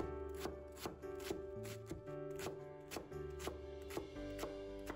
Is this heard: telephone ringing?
no